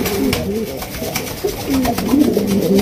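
A breeding pair of pigeons coos in a loft in Bangladesh, repeated low throaty calls rising and falling over about three seconds, fairly close, with a voice partly overlapping.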